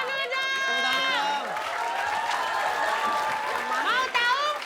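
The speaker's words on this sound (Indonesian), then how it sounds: "Tepuk tangan dulu dong." An audience at a live comedy show claps in a brief burst of applause, heard under loud overlapping voices and laughter.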